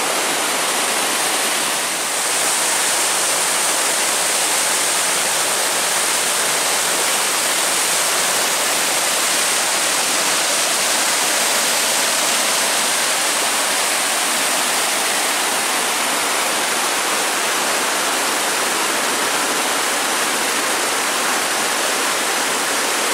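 Hull's Creek Falls roaring at close range, a loud, unbroken wash of falling water that fills the whole scene without letup.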